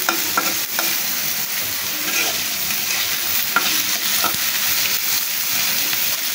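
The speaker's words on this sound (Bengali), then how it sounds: "ভাজা ভাজা করছি," Oil sizzles steadily in a pan with occasional stirring scrapes, a continuous close frying hiss with no voices.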